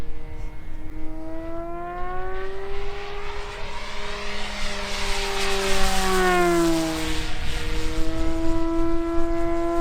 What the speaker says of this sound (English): A park flyer at full throttle, right over the field.